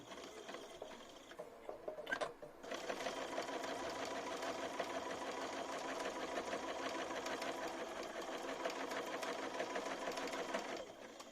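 A SuiSei A9S sewing machine stitches fabric binding through a binding attachment, running in a steady, fast mechanical whir that starts after a short pause and continues loud and alone until the end.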